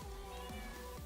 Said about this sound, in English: Incoming cat.